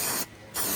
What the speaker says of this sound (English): Get that load of spray.